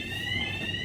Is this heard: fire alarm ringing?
yes